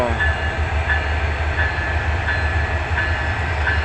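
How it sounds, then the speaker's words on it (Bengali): Sylhet City Express intercity train departing platform 7 at Dhaka Kamalapur railway station, a steady loud rumble of moving carriages with faint rhythmic wheel clicks recurring under the continuous noise. "রাজশাহী অভিমুখী আন্তনগর সিলেট সিটি এক্সপ্রেস ঢাকা কমলাপুর 7 নম্বর প্ল্যাটফর্ম থেকে"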